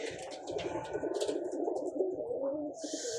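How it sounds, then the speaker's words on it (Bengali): A high-quality pigeon coos softly in a low, pulsing murmur, faint and close, with light rustling and scattered chirps around it. "এটা কিন্তু খুব হাই কোয়ালিটি ফুল একটা কবুতর"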